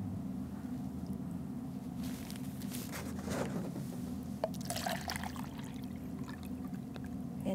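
Tap water is poured into soil in a small landfill model, a steady trickling pour with soft splashes and patter that stays fairly faint throughout, with no voices.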